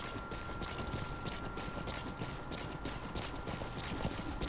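Horse hooves clip-clopping at a gallop in the Metal Gear Solid V: The Phantom Pain video game, a steady rhythmic beat under a continuous bed of game ambience and mechanical noise, with no talking.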